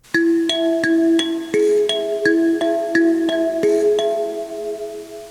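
Bright plucked metal tines on an mbira play a steady, repeating right-hand pattern from "Vana Vanogwara," close and clear with ringing overtones, no voices.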